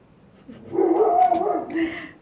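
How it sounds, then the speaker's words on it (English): A dog barks upstairs, a single muffled yelping bark with a whimpering edge, heard at moderate distance in an indoor room. "you can hear Ben upstairs barking"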